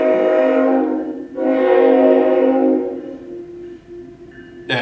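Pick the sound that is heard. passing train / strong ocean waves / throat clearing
passing train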